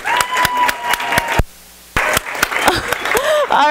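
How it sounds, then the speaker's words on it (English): Applause from an indoor group audience at a gathering, with claps cut off by a brief gap of near silence in the middle and then resuming, mixed with some voices. "Round of applause."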